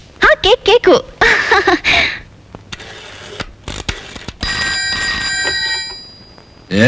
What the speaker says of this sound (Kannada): ಅಣ್ಣ ನಿನಗ್ ಫೋನು